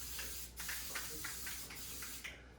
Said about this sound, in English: a little proactive and spray these.